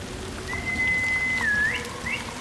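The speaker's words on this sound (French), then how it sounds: "Sais-tu toujours siffler?" A single clear whistled note in Ghost of Yotei, held steady for about a second, then dipping and rising into short upward chirps, over soft rain-like ambience, with no talking.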